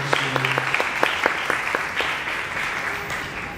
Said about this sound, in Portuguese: Uma salva de palmas para o grupo de Deus.